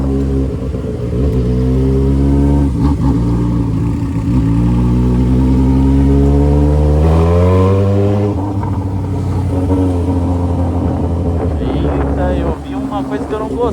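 A Yamaha XJ6 motorcycle fitted with a 3-inch exhaust revs loudly and continuously, its engine note climbing and falling through several long pulls, close up, with the throttle easing off near the end.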